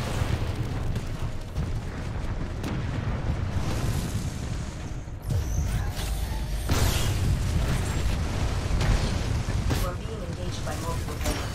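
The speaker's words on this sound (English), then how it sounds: "Enemy Titan destroyed." In the Titanfall 2 video game, an enemy Titan is destroyed in a loud explosive blast amid heavy mechanical battle noise, with booms and bursts over continuous rumble.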